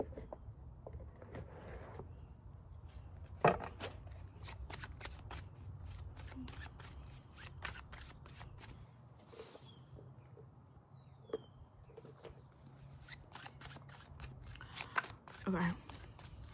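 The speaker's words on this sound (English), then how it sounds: "let's pull an oracle card" Oracle cards are shuffled by hand in a fast, papery riffling flutter with soft slaps, close up and fairly quiet, continuing through most of the clip with faint background hum.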